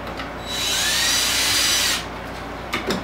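A power drill drives screws into a homemade portable air conditioner: one loud, close, high whine lasting about a second and a half, its pitch climbing before it cuts off, followed by quiet and a couple of small knocks.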